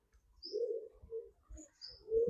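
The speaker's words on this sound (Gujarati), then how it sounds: "જોવો એટલું કબૂતર છે અહીંયા" Many pigeons gathered together give soft, low coos in short repeated bursts with a few faint higher chirps, fairly quiet and close, with no talking.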